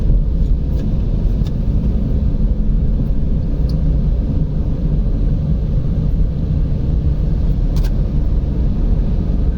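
Lorries and other traffic stand jammed on the national highway between Sompeta and Palasa in the evening, giving a loud, steady engine rumble with no break and a few faint clicks.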